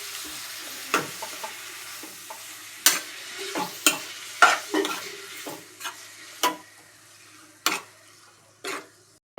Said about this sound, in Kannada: ರೈಸ್ ಹಾಕೊಂಡು ಮಿಕ್ಸ್ ಮಾಡೋಣ